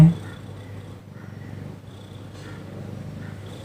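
A mother cat purrs steadily up close, a low rhythmic rumble pulsing with each breath and running alone throughout.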